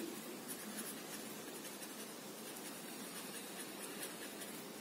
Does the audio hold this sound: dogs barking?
no